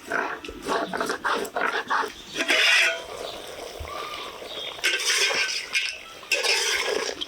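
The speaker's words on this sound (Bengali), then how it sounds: "জিরে ধনেটা একদম মিহি করে বেটে নিয়েছি" Cumin and coriander seeds ground together on a stone slab, a rough rhythmic scraping and rubbing of stone on stone, close and moderately loud, with irregular pulses of grinding strokes and no talk.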